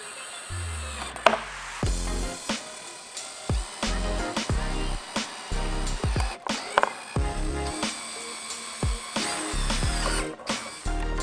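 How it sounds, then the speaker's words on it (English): A power drill with a 1/4-inch bit drilling holes in a Toyota hybrid's fuse box cover whines in repeated short bursts separated by brief pauses, the motor pitch rising and falling with each hole. "we have our drill with our 1/4-inch drill bit"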